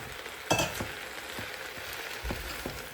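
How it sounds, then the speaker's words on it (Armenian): Food being stirred in a frying pan during home cooking of a holiday meal, with steady sizzling and a few scraping strokes of a spoon against the pan, close and moderately loud. "հիմա խառնեմ քիչ-քիչ"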